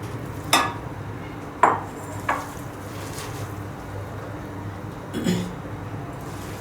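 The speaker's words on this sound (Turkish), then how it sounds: "Şimdi bütün malzemelerimizi sırasıyla karıştıracağım ben." Lahmacun filling of ingredients with oil, salt, black pepper and chili flakes is mixed in a bowl, giving a few sharp utensil clinks and knocks spaced apart over a soft, low background of quiet stirring.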